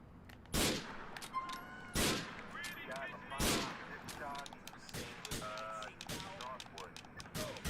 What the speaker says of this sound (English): I have a thing that we like to call a sniper rifle